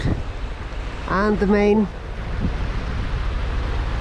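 Steady wind and wave wash surround a sailboat motorsailing under the code sail, its engine running at low RPMs on Lagoa dos Patos in Rio Grande do Sul. Someone speaks briefly partway through.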